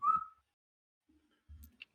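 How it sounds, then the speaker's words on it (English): A person gives one short, clear whistle at the start, followed by near silence and a few faint soft sounds. "Whistling noise."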